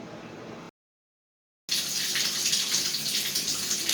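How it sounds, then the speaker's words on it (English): Water gushes steadily from a faucet into a bathtub, filling it. The close, hissing flow stops briefly for about a second near the start, then runs on evenly with no voices. "I'm just going to put a little bit of water in the tub just in case the power goes out."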